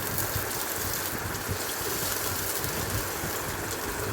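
Chopped onion hits hot mustard oil already holding green chilies, giving a dense, even sizzle that hisses steadily throughout, close and continuous.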